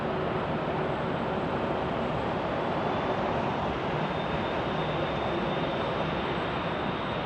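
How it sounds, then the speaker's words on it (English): A Southwest Airlines Boeing 737-700 arriving from Las Vegas at Phoenix Sky Harbor roars steadily in a broad, continuous jet rumble that stays loud and even throughout. "Next arrival is from Las Vegas on a 737-700 for Southwest Airlines"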